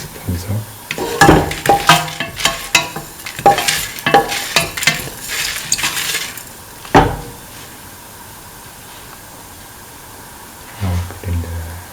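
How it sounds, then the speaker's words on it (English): Fennel seeds are sautéed in a pan, with a spatula scraping and knocking as it stirs over a soft sizzle, busy at first and then quieter, with some talking in between. "Keep on sauteing until the aroma from the fennel seeds comes out."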